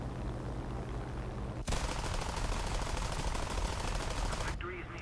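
Machine-gun fire aimed at a B-17 bomber in a flight video game: a steady, rapid burst begins abruptly after a stretch of engine-like rumble, rattles on loudly for about three seconds, then cuts off.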